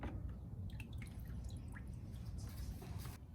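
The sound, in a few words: oil dripping from the AE86 drain plug hole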